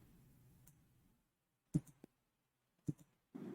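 Sharp mouse clicks while editing in Canva: a few crisp, close clicks, a pair together and then a single one, each separated by near silence, with a faint low hum at the start and a burst of noise at the end.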